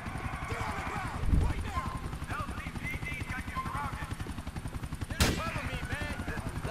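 Gunfire rings out during a police patrol in GTA IV, with sharp shots cutting through a constant rhythmic helicopter-like rotor thrum, while voices talk over the action.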